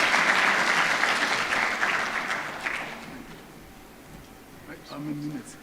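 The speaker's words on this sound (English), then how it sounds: "Please, another round of applause for Professor Ratemo Michieka." An audience applauds after a talk, steady dense clapping that gradually thins and fades as a voice starts speaking near the end.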